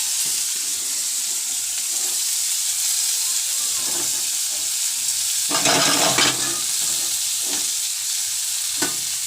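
Chopped onion hitting very hot oil in a kadai gives a steady, close sizzle throughout, with a few louder bursts of crackle and stirring scrapes partway through.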